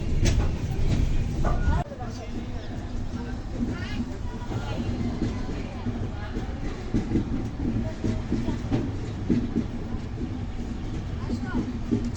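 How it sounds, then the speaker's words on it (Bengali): A train rumbles and clatters as it pulls out of Hatikhali station on the Agartala–Guwahati route, with a sharp drop in noise early on, then steady rolling noise and faint voices underneath. "ট্রেন ছেড়ে দিছে আর কি"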